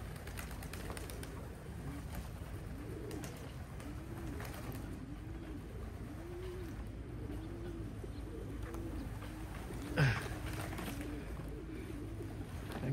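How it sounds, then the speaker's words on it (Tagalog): Racing pigeons arrive at the loft after a 40-mile race through thick fog, with repeated soft cooing phrases under a steady outdoor hiss and a brief flutter of wings partway through. "Dito na yata halos ng lahat ng ibon na."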